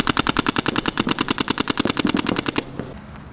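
Rapid, evenly spaced gunshots ring out during a shooting practice drill, about two dozen sharp close cracks in a steady rhythm before they stop, with no voices.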